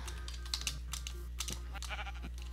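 Sheep bleating in the Minecraft video game, short game bleats scattered among quick clicky keyboard-like taps over a steady low hum, fairly faint.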